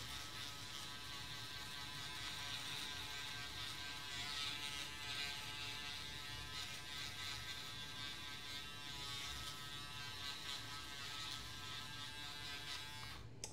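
A Braun Series 5 electric foil shaver runs close and steady, a continuous bright buzzing whir with a faint cutting rasp as it works across stubble, alone for nearly fourteen seconds before cutting off abruptly.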